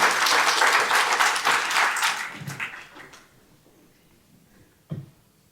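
An audience at a by-election candidate forum in Stettler, Alberta claps loudly for about three seconds before the applause thins out and fades, followed by a couple of isolated late claps.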